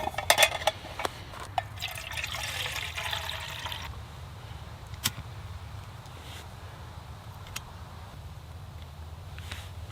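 Water splashes and pours into a small pot for a Firebox Nano camp stove outdoors, a bright gurgling fill for a few seconds, then quieter ambience with occasional clinks and taps.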